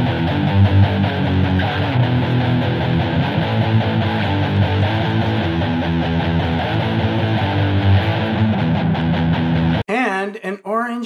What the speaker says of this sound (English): This is a Bogner Uber Metal.